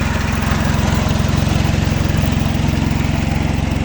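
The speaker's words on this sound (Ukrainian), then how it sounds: "Так, це на холостих, на холостих обертах." A mini tractor engine idles steadily, a close, loud, even low chugging drone with a fast regular pulse throughout and no talk.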